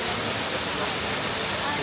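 A man-made waterfall at EPCOT roars as a steady, loud, broadband rush of falling water that stays unbroken from start to finish.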